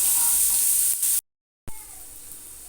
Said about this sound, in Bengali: গ্যাসের ফ্লেমটাকে লোতে রেখে পেঁয়াজটাকে হালকা করে ভেজে নিচ্ছি